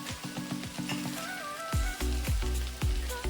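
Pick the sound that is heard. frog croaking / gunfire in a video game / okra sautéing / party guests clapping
okra sautéing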